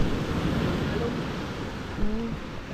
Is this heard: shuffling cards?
no